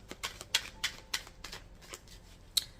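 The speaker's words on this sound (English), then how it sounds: "I'm gonna shuffle." Tarot cards are shuffled by hand in a string of quick, crisp riffling bursts, close and fairly quiet, with a sharper snap near the end.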